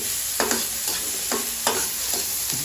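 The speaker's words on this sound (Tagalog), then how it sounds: "Higit na tayo ng kawali na may mantika at igigisa na natin ang bawang." Garlic and onion sautéing in hot oil in a pan, a steady sizzle with a few sharp stirring scrapes spaced through it, close and moderately loud, no voices.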